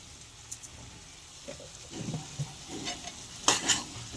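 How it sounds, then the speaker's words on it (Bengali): Spinach and prawns with a little sugar being stirred in a pan for a sweet-savoury chorchori, giving soft intermittent scraping and light sizzle, quiet and close, with a few sharper clinks of the spoon near the end. "চিনিটাকে ভালো করে মিশিয়ে নেড়ে চেড়ে আমি খানিকক্ষণ নাড়াচাড়া করব।"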